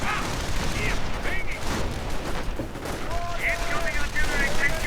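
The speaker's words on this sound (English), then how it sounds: "we are seeing artillery getting called in on the packs. The Panzerabwehrkanonen are going to be subjected to 105mm howitzer barrages" Artillery barrage from 105mm howitzers in the Company of Heroes game, a dense rumble of repeated booms and gunfire crackle running throughout under a commentator's voice.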